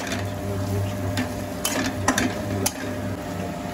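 A vegetable mixture with turmeric and chili powder stirred in a pan makes a low sizzle under scraping and knocking of a spoon against metal, close and without talk.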